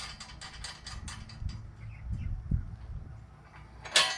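Nylon-insert lock nuts snugged onto the rails of a Woodland Mills HM122 sawmill, heard as close, rapid ratcheting clicks in bursts, then scraping and a sharp metallic clank near the end.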